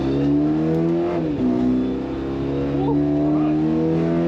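Race car on the Nurburgring, engine droning steadily at high revs with strong harmonic tones throughout, a brief dip in pitch around a gear change, then holding loud and close inside the cabin.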